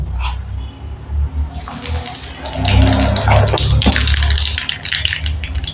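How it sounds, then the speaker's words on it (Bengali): Nigella seeds (kalo jeera) dropped into hot oil for tempering while cooking bata fish curry, a quiet start then a sudden loud, bright sizzle that crackles and hisses steadily close by. "তেলের মধ্যে আমি এবার কালো জিরে ফোড়ন দিয়ে দিচ্ছি"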